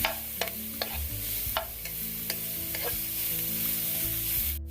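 Mixed vegetables stir-frying in a pan for veg fried rice, a continuous sizzle punctuated by sharp scrapes and clinks of a spatula stirring, with a low steady hum beneath.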